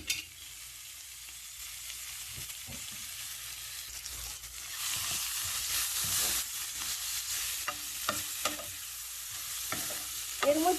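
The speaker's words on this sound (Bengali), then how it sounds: "এই তেলের মধ্যে ভেজে নেব পেঁয়াজ মরিচ" Onions and chillies fry in oil, giving a steady bright sizzle with scattered stirring clicks and scrapes that grow louder and busier partway through, close up and with no talk.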